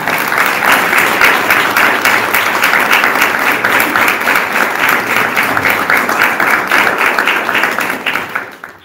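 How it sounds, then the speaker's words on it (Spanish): A church congregation applauds in thanks during a special missions gathering, a dense, steady wash of clapping that holds for several seconds before tapering off at the end. "así que pido un aplauso agradeciendo al Señor"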